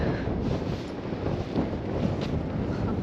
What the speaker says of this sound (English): She's windy.